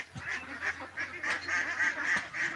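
Ducks in a farm shed that was once a cow shed keep up continuous honking, quacking calls in rapid overlapping bursts, close and loud, with no talk.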